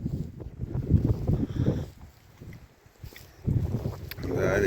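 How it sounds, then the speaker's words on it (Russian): Wind gusting outdoors at a lake shore with waves, a steady low roar that buffets the microphone, swelling and easing in strong surges. "Да, ветер, конечно, нормальный."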